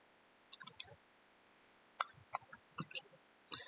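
Sharp computer mouse clicks in short bursts of two or three, close and crisp over near silence, during 3D-modelling work in Fusion 360.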